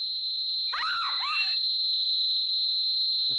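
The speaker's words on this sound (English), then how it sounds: "Oh man, that's a nasty whistle" A single sharp whistle with a rising and falling shape rings out briefly over a steady, high insect-like drone.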